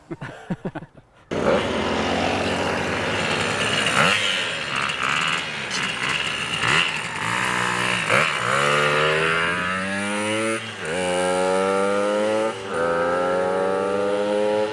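A 1969 Dem Supersport Italian moped engine runs loud and close after a brief start, its buzzing two-stroke note rising and falling as the throttle is blipped, with a rattling, vibrating edge.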